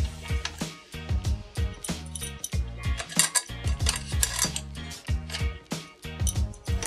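Adjustable wrench turning a crank puller to push a bicycle crank off its axle, with a close, rhythmic series of metallic clicks and clanks repeating steadily throughout.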